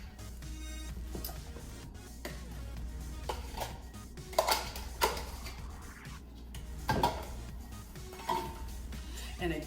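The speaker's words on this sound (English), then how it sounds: "And again, I'm gonna continue to stir." A spoon scraping and clinking against a metal pot while rice with crab meat, sausage and coconut shrimp is stirred, with intermittent sharp knocks over a low steady hum.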